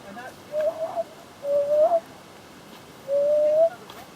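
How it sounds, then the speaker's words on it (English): Three drawn-out, gliding bird calls, each about half a second long, repeat at uneven intervals against a quiet outdoor background near water at Pearl Beach on the Central Coast. "I love that bird."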